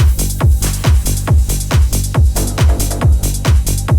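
A techno track with subtle uplifter and downlifter effects plays over a steady, punchy four-on-the-floor kick pulse, loud and continuous, with no voices.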